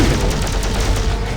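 Rapid gunfire as Rocket shoots down enemies in the mobile action game Marvel Future Fight, a dense, steady volley of shots running throughout at loud level.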